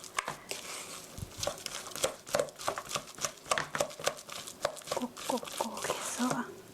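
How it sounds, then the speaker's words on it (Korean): Hamburger meat mixture kneaded by hand in one direction, giving soft, wet squelching and slapping pressed out in an irregular rhythm, close up and fairly quiet. "한 방향으로 돌려가면서 치대주세요"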